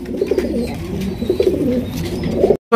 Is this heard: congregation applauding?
no